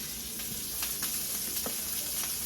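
Onions frying in a pan, a continuous soft sizzle with occasional small crackles and pops, close and steady with no talking.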